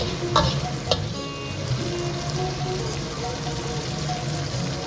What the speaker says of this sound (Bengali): আবার অল্প একটু জল অ্যাড করে মশলাটাকে কষিয়ে নিচ্ছি কিছুক্ষণ